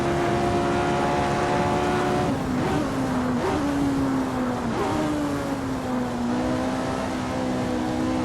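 A Lotus 49 race car engine in Assetto Corsa at Monza on a warm-up lap, a loud steady high-pitched drone that rises and dips through several gear changes, with no talking.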